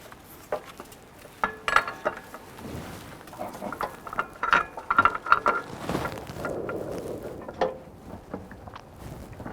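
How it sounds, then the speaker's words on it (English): A wrench works on the tensioner bolt of a 2012-2017 Toyota Camry drive belt kit, giving close metallic clicks, ratcheting and clinks in uneven bursts with short pauses between. "I'm going to torque this bolt to 40 foot-pounds"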